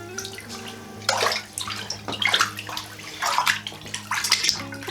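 Gentle sloshing and swishing as a vintage quilt is worked by hand in a tub of water, irregular splashy bursts close by over a steady low background hum.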